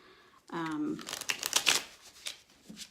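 A quick riffle of tarot cards being shuffled, a crisp papery flutter lasting under a second, heard close up after a short hum-like voice sound.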